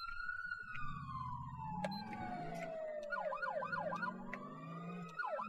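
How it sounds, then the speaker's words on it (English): A police car siren wails in the GTA IV video game, a long descending tone shifting into a fast rising-and-falling yelp, moderately loud over car noise with no talking. "Also, I've got a new siren."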